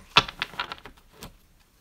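Tarot cards shuffled by hand, giving a short run of soft papery clicks and snaps, quiet and close, with no talking.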